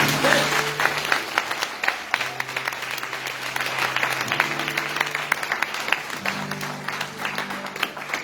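Church congregation applauding in praise, a sustained, dense burst of clapping with sustained voices or music tones underneath, steady and fairly loud throughout.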